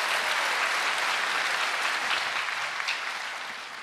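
A snooker crowd applauding a Ronnie O'Sullivan shot in an exhibition match, steady dense clapping filling the room, loud and sustained before tapering off slightly at the end.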